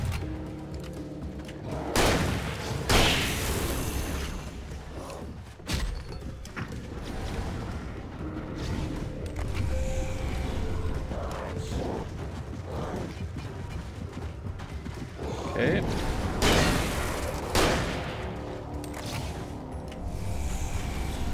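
Shotgun blasts in the game Alan Wake, several heavy booming shots spaced apart amid mechanical clanks, thuds and eerie ambience, fairly loud.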